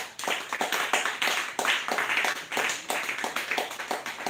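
A church congregation claps along during a French-language prophetic prayer service, with steady, rhythmic hand claps that fill the room, close and continuous, with no clear speech over them.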